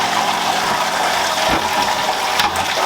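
Sparge water draining from a mash during beer brewing, a steady loud rushing gush with a low drop partway through, no voices.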